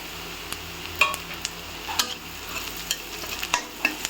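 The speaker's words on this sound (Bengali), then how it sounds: "হলুদ গুঁড়ো দিয়ে সবগুলোকে একটু নেড়ে" Salt and turmeric stirred through frying spices in a pan for a pointed gourd fry, with a steady soft sizzle and scraping strokes at irregular intervals.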